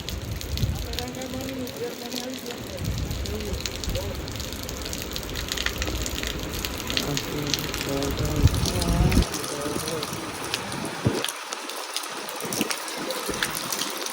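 Fast floodwater after three days of continuous heavy rain rushes and gushes in a loud, unbroken torrent close by, while a person talks over it.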